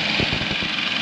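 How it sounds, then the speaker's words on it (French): A boat engine on a trip near Krabi, Thailand runs with a steady, fairly loud droning hum and a faint rhythmic throb, continuous throughout with no voices. "pour éviter le bruit du moteur, il y a une porte derrière ici qui permet de saturer le bruit du moteur"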